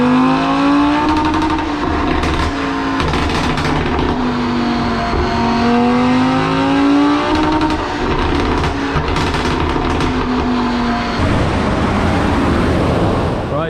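A tuned 2020 Audi RS3 runs flat out on a dyno, a loud sustained engine roar with a rising, wavering pitch that carries for most of the span before dropping off near the end.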